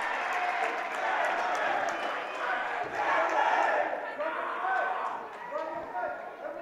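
A student section roars and cheers at a girls' high school basketball game between Hazen and Oxbow, a loud, sustained crowd noise that swells and ebbs without letting up.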